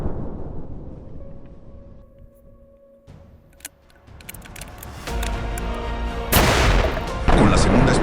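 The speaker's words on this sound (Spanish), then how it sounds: "Con la segunda explosión nos ha pasado lo mismo." After a quiet lull with faint tones and a few clicks, a loud hydrogen-filled bottle explosion erupts outdoors, followed by another strong blast near the end, both roaring and broadband.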